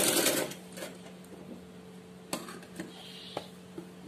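A sewing machine stitches the sleeves of a baby frock, a short close burst of rapid whirring at the start followed by quiet room tone broken by a few soft clicks and taps.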